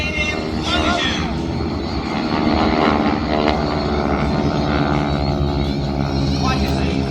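Airshow planes flying in formation make a continuous, loud engine roar that holds steady throughout, with a slight swell partway through.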